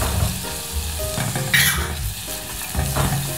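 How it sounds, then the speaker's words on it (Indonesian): A clove of garlic sautéing in a pan for a toddler's chicken, potato and corn soup, a steady near sizzle with stirring scrapes and brief clinks over low background music. "kita masukkan satu siung bawang putih"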